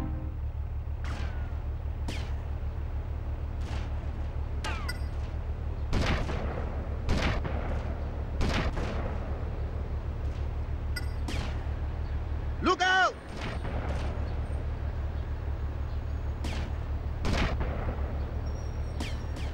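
Sniper gunfire in GTA Vice City Stories: sharp, loud shots crack out at irregular intervals over a steady low drone, with a brief burst of voices in the middle.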